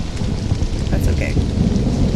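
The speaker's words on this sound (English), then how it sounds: "Rain." Steady, loud rain pours with a low rumble of thunder in the video game Stranded: Alien Dawn, a continuous dense hiss without pause.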